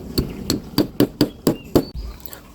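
Sharp hammer blows from the hammer attachment of an AKITA detachable-head drill drive a plastic wall anchor into a drilled masonry hole, seven evenly spaced close strikes followed by a softer tap.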